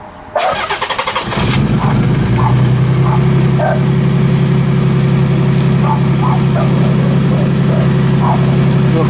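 A motorcycle engine, just put back together, starts with a brief rough burst and then settles into a steady, loud, close idle that runs on evenly to the end, with a few faint higher sounds over the top.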